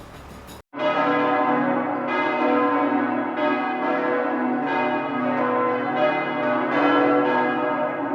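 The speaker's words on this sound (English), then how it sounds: "they ring the bells of the convent with frenzy" Convent church bells ring in a frenzy, a dense, continuous clangor of overlapping loud strikes and long resonant tones that carries on steadily without pause and without voices.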